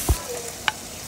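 Meat being stirred in a frying pan with black pepper: a brief scrape of the utensil followed by a short click, faint crackle of frying underneath, close by.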